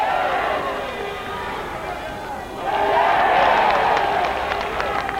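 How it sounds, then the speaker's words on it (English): Boxing crowd in England cheering and roaring through a flurry of punches, a dense, sustained wall of voices that swells louder halfway through, with scattered claps and a commentator talking over it. "Again, the crowd getting behind them, nice flurry of punches then."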